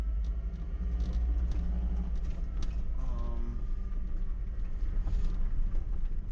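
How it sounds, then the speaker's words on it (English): Steady, loud road rumble from semi trucks passing close by on a highway near Wabasha, Minnesota, heard from inside a moving vehicle, with low engine drone and wind noise throughout. "I'm not too thrilled about these semi trucks."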